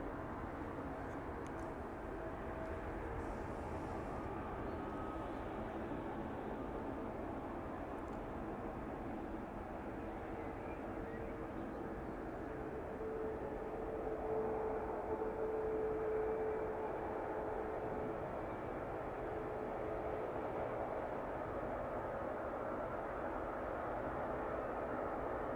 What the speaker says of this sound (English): That one making its way down onto the approach now.